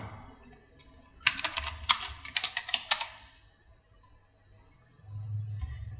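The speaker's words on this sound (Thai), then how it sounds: "ตรวจสอบด้วยการพิมพ์คำสั่ง" Someone types a command on a computer keyboard, producing a quick burst of crisp key clicks lasting about two seconds, close and clear against near silence.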